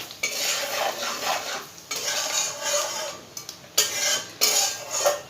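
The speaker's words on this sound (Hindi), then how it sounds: "तो ये देखिए मसाले भुन रहे हैं।" Cumin and fennel seeds roasting in a pan while being stirred with a metal utensil, giving repeated scraping and clinking strokes over a light sizzle, close and fairly loud, with no talking.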